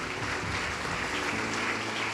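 Congregation at a church sermon applauding, a dense continuous patter of many hands heard at a distance, steady and even throughout with no voices standing out.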